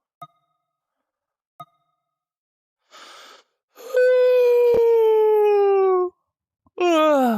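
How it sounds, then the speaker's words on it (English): A long, drawn-out human yawn rises into a sustained, slightly descending moan, followed by a shorter second vocal sound, preceded by a few soft clicks and a brief breathy rustle, heard close and fairly loud during a VRChat stream. "That was an epic yawn, am I right?"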